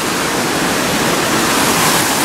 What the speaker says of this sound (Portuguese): aqui brota água pra tudo quanto é lado